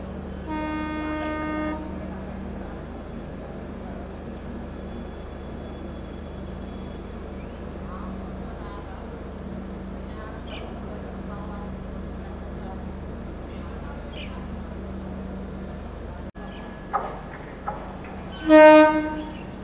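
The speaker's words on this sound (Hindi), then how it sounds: "तो गाइस ये आ रही है सामने नई दिल्ली अमन दौरा Vande Bharat express train number" The Vande Bharat Express, train 22447 from New Delhi to Amb Andaura, pulls into a station. A horn blares at the start, a steady rumble follows and another horn sounds near the end, while someone talks throughout.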